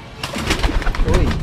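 Pigeons coo up close in short, soft, throaty bursts, several overlapping calls within a second and a half, with faint rustling behind them.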